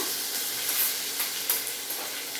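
Onions hit hot oil with browned chana dal while a bitter gourd palya cooks, giving a loud, close, continuous hissing sizzle with faint stirring ticks and no talking.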